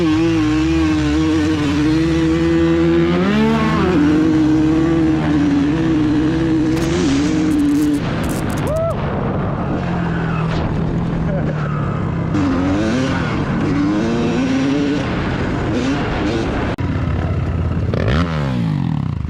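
Four-wheeler engines roar in a 2-stroke versus 4-stroke drag race, a loud sustained buzzing drone with rising and falling revs and shifting pitch, close and continuous for the whole stretch with some background chatter.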